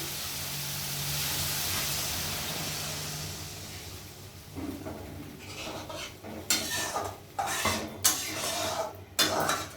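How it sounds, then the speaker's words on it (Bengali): Water poured into spice paste frying in a pan for a fish curry sends up a broad hissing rush of steam that fades, followed by clanking and scraping of a spoon stirring against the pan. "এবার আমি সামান্য অল্প একটু জল দেবো।"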